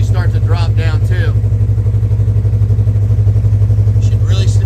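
A Polaris RZR engine idles steadily while warming up to operating temperature, a constant low throbbing drone held throughout at close range, with a person talking over it at the start and again near the end.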